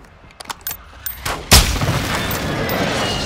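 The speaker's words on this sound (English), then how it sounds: "That's my airstrike." Video game airstrike: a few sharp distant pops and thuds give way to a loud, close explosive blast that rolls into a sustained rumbling roar, with no talking over it.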